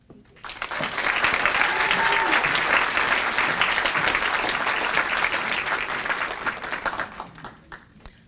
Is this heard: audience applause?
yes